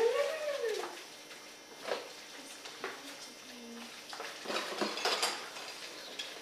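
A spoon scrapes and clinks against a pot while ground beef, tomato sauce and chili are mixed together for a pasta dish. The taps are close, soft and irregular, with a brief voice at the start.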